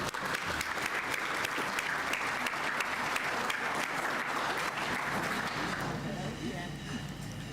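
An audience at a building and construction industry apprentice awards ceremony applauds a winner, continuous loud clapping that thins toward the end while a voice speaks over it.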